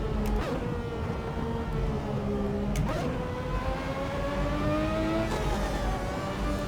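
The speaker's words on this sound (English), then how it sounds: "that engine really whining." A Ferrari 643 V12 Formula 1 car in Assetto Corsa, its high engine whine rising and falling through gear changes and throttle lifts, loud and continuous with sharp shift transitions, no voices.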